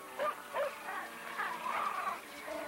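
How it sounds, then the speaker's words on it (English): Low growling and snarling from feral dogs, rising and falling in a few short bursts, fairly faint with a hiss of background noise. "The snarling dogs take some getting used to."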